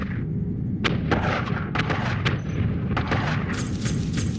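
Missile explosions from the space combat video game Spacebourne 2 burst out as a rapid string of sharp booming impacts over a constant low engine rumble, close and loud.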